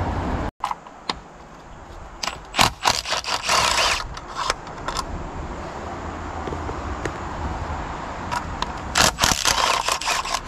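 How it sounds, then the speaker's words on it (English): A 10 mm socket wrench at work taking the valve covers off a 1991 Malibu F3 race boat engine, with irregular metallic clicks, scrapes and clattering bursts at close range. "we're gonna go with a 10 millimeter here to take our valve covers off."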